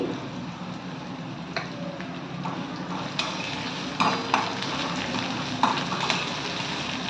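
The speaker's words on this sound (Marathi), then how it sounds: "आता आपण कांदा घालून घेऊया।" A medium-sized onion frying in oil in a pan for upma gives a steady close sizzle, broken by a few sharp clicks and scrapes of stirring. No one speaks.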